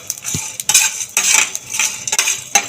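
Spices, garlic and chopped ginger are stirred in a pan, heard as a rapid series of metal utensil scrapes and clinks against the cookware, close and loud with only faint sizzling beneath.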